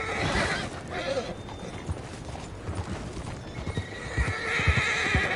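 Horse hooves clopping steadily on the ground amid busy outdoor ambience in the video game Red Dead Redemption 2, with a horse's whinny and faint mechanical rattling mixed in.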